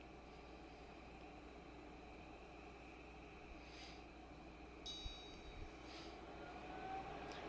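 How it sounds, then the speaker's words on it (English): A Greenote HEPA air purifier fan runs on its highest setting, giving a steady, even whoosh of moving air with no talking, broken only by a few faint clicks near the end. "I'm gonna be quiet for a minute so you can hear the sound of that fan"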